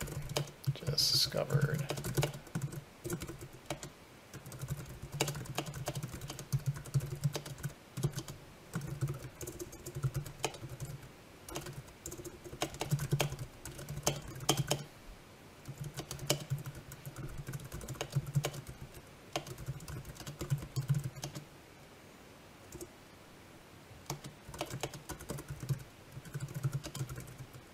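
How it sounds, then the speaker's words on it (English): A computer keyboard clatters with quick, irregular keystrokes as a bug report is typed, soft and close, with brief pauses and occasional speech. "So hold on while I type in the bug report."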